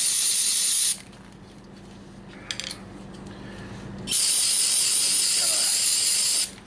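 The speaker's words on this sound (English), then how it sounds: "Take some carb spray." Two bursts of carburetor cleaner spray hissing loudly, one short at the start and a longer steady one near the end, with quiet handling noises between, on a barn-found JCPenney moped.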